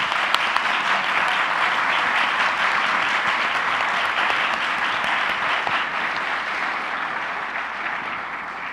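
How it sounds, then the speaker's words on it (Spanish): A lecture audience applauds steadily for several seconds, a dense, even wash of many clapping hands, loud and sustained with no talk, tapering slightly toward the end. "un aplauso para Pilar y Adriana."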